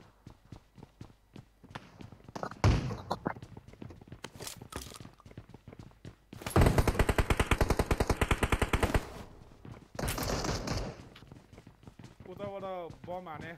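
Gunfire in an online shooter video game comes as rapid automatic bursts and scattered single shots, loud and close, in several separate volleys with pauses between them and a short electronic tone near the end.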